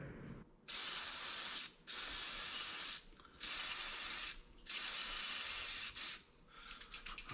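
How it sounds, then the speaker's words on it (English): Four long bursts of throttle body cleaner hiss out from an aerosol can, close and loud, separated by brief pauses. "here is the throttle body cleaner"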